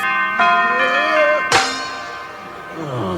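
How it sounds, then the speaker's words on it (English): A low C bell character rings in a Claymation Christmas special, holding a sustained, resonant tone with a sharp struck accent about halfway through that fades into a lingering hum. "the real star of this segment is the tonic note, the low C bell"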